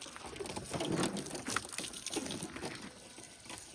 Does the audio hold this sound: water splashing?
yes